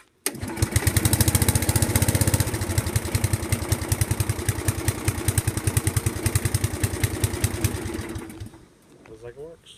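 A Briggs & Stratton small engine, just fitted with a new head gasket, catches and runs with a loud, rapid pulsing chug close by for about eight seconds before cutting out, followed by a voice speaking.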